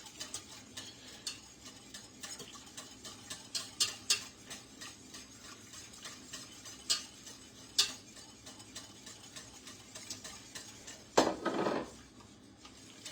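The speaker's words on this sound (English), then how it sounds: "you're gonna go ahead and whisk them in" A whisk clicks and scrapes against the inside of a pot as eggs are beaten into warm milk, making soft, irregular ticking taps close by, with a louder clatter near the end.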